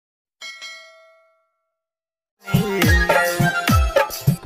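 A single bright bell-ding notification chime rings out and decays, followed after a short silence by loud, busy music.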